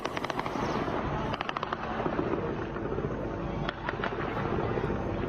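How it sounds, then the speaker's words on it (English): Bursts of rapid automatic gunfire in news footage, sharp repeated cracks in clusters over a constant noisy background, fairly faint and distant-sounding. "A lot of gunfire."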